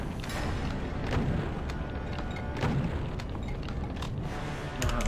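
Dense, continuous rumble of explosions and mechanical clatter from the Doom mod Ultimate Torment and Torture, loud throughout with a few sharper booms standing out and no voices.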